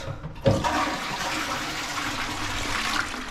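A newly installed WC toilet, set in place but not yet fastened, is flushed for a leak test: a sudden rush of water that settles into a steady hiss of refilling, close and fairly loud with no voices.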